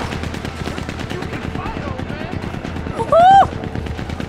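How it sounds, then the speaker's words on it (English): Rapid gunfire rattles through a bank robbery shootout in Red Dead Redemption 2, a dense run of close shots throughout, with a man whooping briefly partway through. "I'm getting shot at!"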